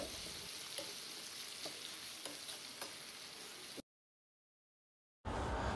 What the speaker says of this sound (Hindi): टमाटरों को भी बहुत ही अच्छे से भून लेंगे